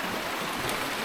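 A river stream flowing through the Bismo mountain valley gives a steady, close, broadband rush of water with no voices over it.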